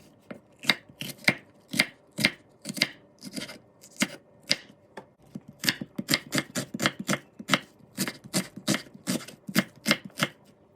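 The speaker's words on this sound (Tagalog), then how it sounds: "So cut natin ang ating courgette or zucchini into dice, same as our bell pepper." A knife dices zucchini and bell pepper on a cutting board in a home kitchen, giving a long run of sharp, close chopping taps in quick bursts with brief pauses between them.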